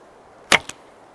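A Nomad L7 laminated Turkish bow looses an arrow: one sharp, close string snap and thump, followed a moment later by a fainter second knock, with quiet room tone around it.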